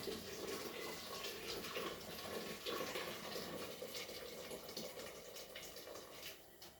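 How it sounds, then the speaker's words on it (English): A full 1.7-litre kettle of water is poured into a soup pot for minestrone, a steady close rushing and splashing stream lasting several seconds and tapering slightly at the end, with no talking. "I'm just going to add a kettle full of water"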